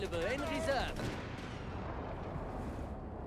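A tank shell strikes and bounces off armour amid gunfire in the Company of Heroes 3 strategy game, a heavy crack fading into rumbling battle noise while a commentator talks over the opening second.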